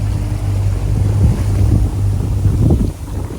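A fishing boat surfs waves at Botany Bay in strong wind, with heavy wind buffeting the microphone over rushing water and a low engine rumble, loud and continuous.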